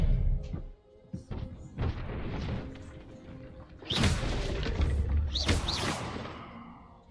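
Expelliarmus disarming spell in the video game Hogwarts Legacy: a few soft thumps are followed by two loud, bright whooshing bursts with crashing impacts, each fading out after it hits.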